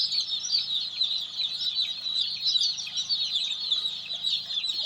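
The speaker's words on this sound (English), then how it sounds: "So this is how we try to block the birds from going out." Chickens on a poultry farm cluck and chatter as a dense, continuous flock, a steady busy chorus with a low hum of housing or equipment beneath and no talking.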